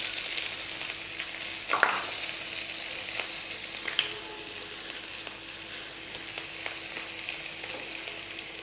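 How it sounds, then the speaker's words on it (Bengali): Chopped onions and green chillies sizzle steadily in oil left from frying fish, a loud, even crackle close by with a couple of sharper pops and faint stirring, no voices. "মাছ ভাজা তেলের ভিতরে দিয়ে দিচ্ছি 2টা বড় সাইজের পেঁয়াজ কুচি এবং 3 থেকে 4টা কাঁচা ঝাল।"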